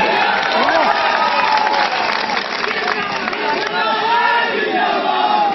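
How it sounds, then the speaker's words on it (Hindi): Crowd at an outdoor political rally in Madhubani, Bihar, clapping and cheering loudly and steadily, with a voice over a PA system carrying through the noise. "क्या मेरी बात गलत हो तो ताली मत बजाइए, सही हो तो बजाइए"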